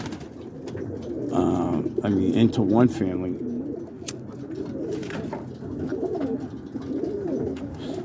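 Pet pigeons from a breeding loft coo in low, murmuring rolls throughout, close by and steady, while someone talks briefly over them partway through.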